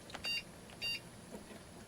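A Lenovo 3000 H210 desktop computer emits two short electronic beeps at boot, evenly spaced about half a second apart, faint against a quiet room hum.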